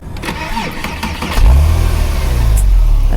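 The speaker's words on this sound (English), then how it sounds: "And now this car has really great sounding exhaust," A 2006 Porsche 911 Carrera S (997.1) flat-six fires up, a brief starter whir and then a loud, deep exhaust rumble that settles into a strong, close idle.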